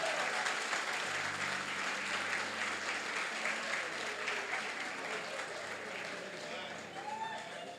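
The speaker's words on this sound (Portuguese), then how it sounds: "Merece até uma salva de palmas" A church congregation applauds at a Christian service, a steady wash of clapping that holds for several seconds, with a low hum running beneath it.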